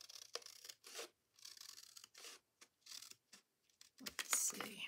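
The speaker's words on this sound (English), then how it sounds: "So I'm going to cut this right here." Scissors cutting paper for a handmade Halloween journal, with several short snipping and rustling bursts close by, then a louder crinkle of paper at the end.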